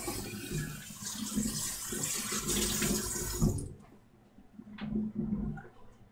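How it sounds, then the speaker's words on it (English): Plastic item rinsed under a running kitchen tap, a steady broadband water rush for about three and a half seconds that then cuts off, leaving faint drips and light handling clatter. "I'm noticing it's got a little dust or something on it, so I'm giving it a quick rinse"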